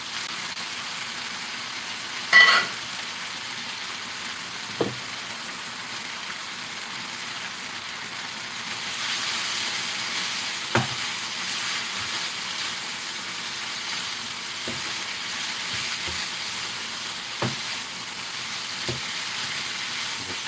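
Chow mein noodles frying with chicken in a hot pan, a steady soft sizzle throughout with a few sharp clinks and scrapes of utensils, no talking.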